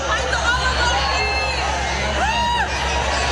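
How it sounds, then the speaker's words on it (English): A large Coachella festival crowd responds to Bernie Sanders on stage with a steady roar of cheering and shouting voices, a dense outdoor wash of hubbub with a few louder calls rising above it. "you'll hear the crowd reaction"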